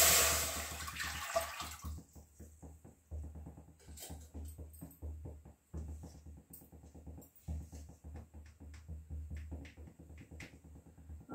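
Water poured into a kadhai holding semolina (suji), a loud rushing pour at first settling into a stirring, watery sloshing with small clinks, with no talk.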